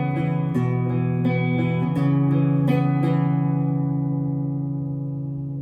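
Distorted electric guitar works through a song's riff, several picked notes changing over a sustained low drone, then one held chord ringing and gradually fading, heard alone and fairly loud.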